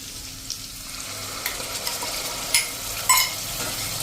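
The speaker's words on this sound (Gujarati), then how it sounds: "એને પણ આપણે સરસ આ રીતે તેલમાં જ કૂક કરી લેશું" Soaked spice masala frying in hot oil with cooked ginger and coriander greens for chole, a steady close sizzle with a few sharper crackles and stirring clinks, no voices.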